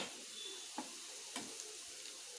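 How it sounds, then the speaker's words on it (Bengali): Potato, onion and green chilli fry together in a pan for egg veg chowmein with a faint, steady sizzle, broken by a few soft taps of stirring. "এবার আলু, পেঁয়াজ আর কাঁচা লঙ্কাটা আমরা একসাথে একটু ভেজে নেব, যতক্ষণ না একটু সেদ্ধ হয়।"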